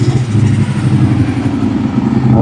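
A classic car cruises past at a car show on the Queen Elizabeth Way near Niagara Falls, its engine giving a loud, steady low rumble close by with no talking over it.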